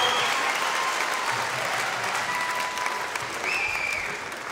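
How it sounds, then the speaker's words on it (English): Crowd at a live concert in the Plaza Theatre, Stockport applauding the choir, a sustained dense wash of clapping with faint whistles and cheers mixed in, fading slightly toward the end. "Let's have a round of applause for the choir who's helping us out tonight"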